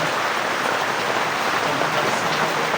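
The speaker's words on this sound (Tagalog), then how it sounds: "Sobrang lakas ng ulan." Heavy, steady downpour drumming on surfaces in a backyard, a dense continuous hiss with no breaks and no voices.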